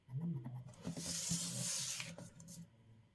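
Marking a line on card stock during a card-making class, a short soft scratching and rubbing of a pen or stylus across paper, close and quiet with no talking.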